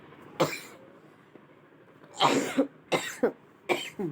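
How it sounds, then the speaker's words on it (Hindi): Several harsh coughs close to the microphone, one isolated, then a cluster of three or four in quick succession, with quiet pauses between. "खांसी हो रही है।"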